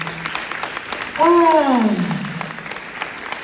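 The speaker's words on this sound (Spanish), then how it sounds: "¿No le dan aplauso a la palabra de Dios?" A church congregation at a Sunday service breaks into applause, a dense wash of clapping that continues steadily while a voice exclaims briefly over it.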